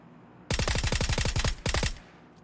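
Rapid automatic gunfire in the video game PUBG on console, two close, loud bursts of evenly spaced shots with a brief gap between them.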